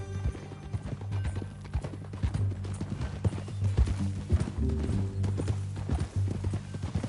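Horse hooves clip-clop in Red Dead Redemption 2, a steady run of sharp close knocks over a low background music drone, with faint voices now and then.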